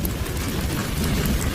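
Heavy rain with thunder in a Bengali cartoon forms a brief, dense, steady wash of noise that is fairly loud and has no voices over it.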